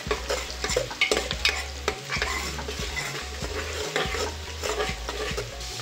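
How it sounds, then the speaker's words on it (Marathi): Onions sautéing with a pinch of sugar in a pan while cooking a basmati pulao, with steady close sizzling and frying and repeated stirring scrapes throughout, no talking. "थोडीशी साखर आणि परतून घेऊया।"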